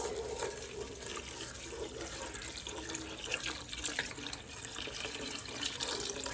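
Vegetable broth pours steadily into rice in a pot for jambalaya, a soft continuous splashing and trickling close by with no talk.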